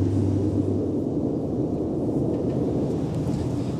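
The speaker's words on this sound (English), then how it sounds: "Now that the train has passed," A steady, heavy low rumble fills the whole stretch, like a train rolling past close by, continuous and loud without any voices.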